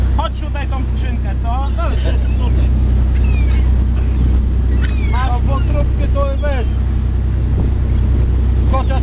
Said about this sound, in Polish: Koty chyba za tym przepadają, nie?